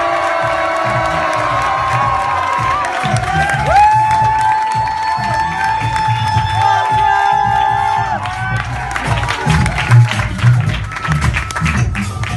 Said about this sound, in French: je vous demande de lâcher vos verres et d'accueillir dans un tonnerre d'applaudissements André de Marteau, s'il vous plaît